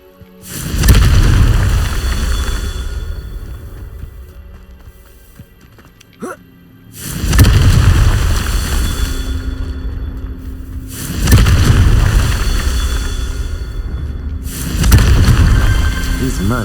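A Confringo spell in Hogwarts Legacy blasts rocks apart in four deep, booming explosions that roar and slowly fade between each hit, with a thin whoosh before the second blast.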